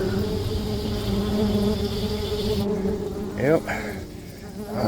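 Red wasps drone around a nest near a barn, a dense steady buzz with shifting tones close to the listener, and someone briefly speaks over it.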